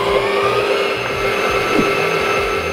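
A stand mixer churns flour, milk powder and yeast for coffee bun bread dough, giving a loud, steady motor whir with a low rumbling drone that runs unbroken throughout, with no voices.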